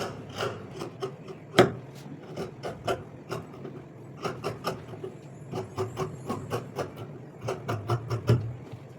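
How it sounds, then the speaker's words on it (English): Scissors snip through fabric while the back neckline of a dress is cut along the shoulder slant, giving clusters of crisp, close cuts in quick irregular runs separated by brief pauses. "I'm going to just cut the back neckline and flow with the shoulder slant"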